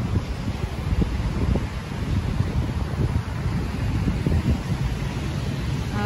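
Cold wind blowing steadily across Nha Trang beach after storms and flooding, a continuous broadband roar and buffeting close to the microphone, with rough surf likely mixed into the low rumble and no speech.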